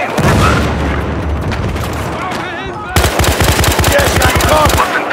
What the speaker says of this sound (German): Die Granate!